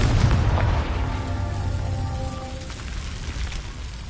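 The Confringo fire spell bursts in Hogwarts Legacy, a deep booming blast up front that decays into a rumbling, crackling tail with a faint tonal ring.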